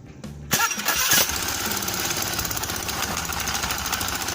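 A Honda Beat scooter's electric starter whirs briefly before the small engine catches and settles into a loud, steady, buzzing idle, heard close up with no speech.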